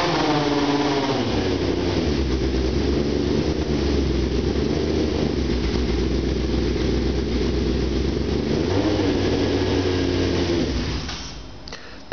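A 2011 car engine with a leaking radiator inlet hose revs high and steady right after a cold start, a loud continuous close drone that drops away near the end.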